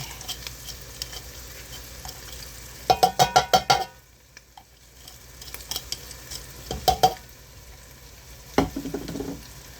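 Garlic fries in a hot pan with a steady sizzle, broken by bursts of rapid scraping and stirring clatter from a utensil against the pan, close up with no voices.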